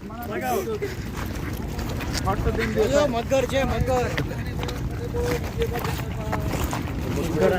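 A boat moving on the Narmada river, with rumbling motion and wind noise underneath several people talking and calling out.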